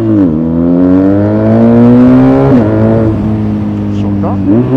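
BMW R1250RS two-cylinder boxer motorcycle engine revving up and settling under throttle and clutch work, a loud, close, steady drone with rising and falling pitch sweeps.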